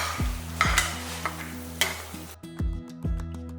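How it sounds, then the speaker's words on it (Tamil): Cashew nuts fry in oil in a pan with a soft sizzle, broken by several sharp knocks and scrapes of a spoon against the metal, no voices present. "இந்த முந்திரி பருப்பை எண்ணெய்க்குள்ளே பொரிச்சிட்டு இதை அரைக்கிறதுக்கு எடுத்துக்கலாம்."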